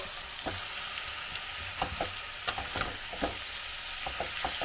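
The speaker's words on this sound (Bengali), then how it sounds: "আমি আস্তে আস্তে আস্তে আস্তে কষাচ্ছি, যেটুকু জল বেরোচ্ছে মাংস থেকে সেটা দিয়ে মাংসটা হচ্ছে" Meat slowly sautéed in its own released juices in a pan, a continuous moderate sizzle with scattered clinks and scrapes of stirring, no talk.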